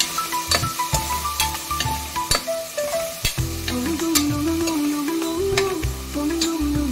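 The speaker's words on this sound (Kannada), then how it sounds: "ಈರುಳ್ಳಿ ಬೇಗ ಫ್ರೈ ಆಗುತ್ತೆ" Onions frying in a pan make a soft sizzle under repeated rhythmic stirring and scraping taps, with background music playing throughout.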